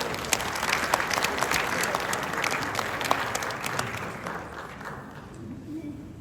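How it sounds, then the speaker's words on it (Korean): An audience at a business investment event applauds the provincial governor, Kim Kwan-young, with steady clapping that softens toward the end as a faint voice comes in. "기업인체에 대한 뜨거운 열정을 보여주신 김관영 도시장님께 다시 한번 큰 박수 부탁드리겠습니다"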